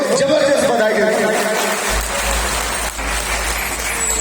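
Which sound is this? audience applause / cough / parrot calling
audience applause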